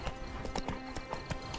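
Horse hooves clip-clopping in the video game The Witcher 3, a quick run of close, fairly loud hoofbeats with a brief whinny, over steady game ambience and no talk.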